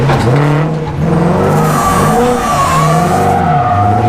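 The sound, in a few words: car doing donuts with clutch kick, tires skidding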